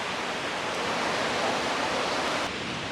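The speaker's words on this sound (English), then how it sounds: "That's Twin Falls over there." Twin Falls at Rock Island State Park in Tennessee pours over the Caney Fork River Gorge, a dense, steady roar of falling water heard from a distance, broadband and unbroken, with no talk.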